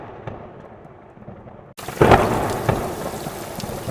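A nighttime thunderstorm: steady rain hisses, then after a sudden cut a loud thunderclap booms up close and rumbles on over heavy rainfall.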